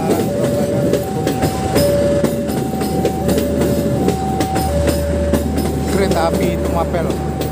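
The Jayabaya passenger train rolls past in Indonesia with steady rumbling and rhythmic clickety-clack of wheels on rails, a high tone sounding over the noise throughout.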